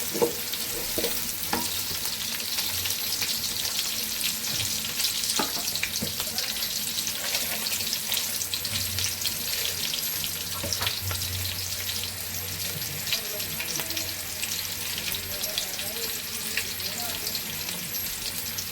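Rice being fried in a pot with oil and ghee while making pulao, a continuous hissing sizzle with occasional scrapes and clinks of stirring, close and steady throughout.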